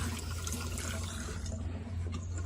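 Water runs steadily from a washbasin tap in the bathroom of a newly built 12 by 24 metre steel warehouse, a continuous close rushing flow with no talk.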